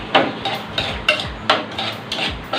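Waldorf salad ingredients are mixed in a bowl, giving a quick run of about seven close, rhythmic clinks and scrapes of a utensil against the bowl.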